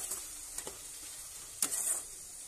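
Spice masala with red chili powder and salt roasts in oil in a pan. A faint, thin sizzle hisses softly throughout, broken by a few light stirring clicks near the start and the end.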